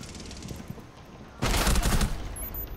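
Video game gunfire, a dense burst of shots that starts abruptly partway through and stays loud and sustained, following a quieter stretch of game ambience.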